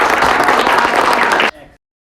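Studio audience applause greets a guest on a Bhojpuri comedy quiz-show stage, a dense, loud burst of clapping that stops abruptly, followed by a brief faint tail.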